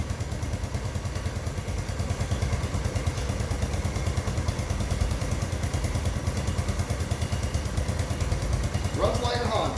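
A 1968 Honda CT90 motorcycle engine idles steadily on half choke right after starting, a close, even low putter with a mechanical clatter running the whole time and a voice briefly joining near the end.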